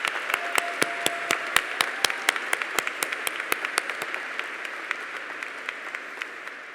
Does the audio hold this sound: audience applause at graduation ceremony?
yes